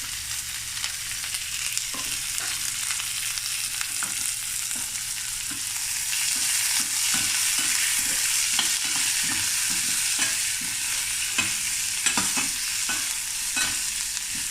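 Chopped onions, with green chilies, fry in a pan toward golden brown: a constant hiss of hot oil overlaid with repeated scraping and tapping as a spatula stirs them, unaccompanied by speech.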